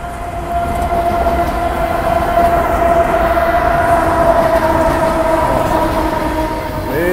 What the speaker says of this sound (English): we've got a train coming. So I'm gonna video a little bit of the train here